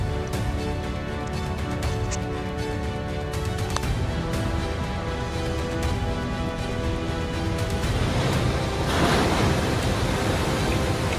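Ocean waves crash continuously at Maratea, a dense, roaring surf that stays loud throughout and surges into a heavier break near the end.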